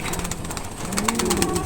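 Stock breeder pigeons coo in a loft, soft repeated low coos overlapping for a moment amid faint background noise.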